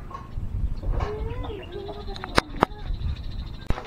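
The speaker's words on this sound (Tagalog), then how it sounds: "Sosoga lang ng kambing, ay nagsosoga." Goat bleating on a farm, several wavering calls close by over a low background murmur, with a few sharp clicks near the end.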